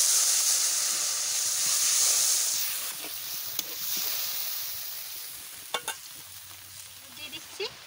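Mutton fries in a pan as water goes in, setting off a loud, bright sizzling hiss that slowly fades, followed by a few sharp clinks of a spoon against the pan.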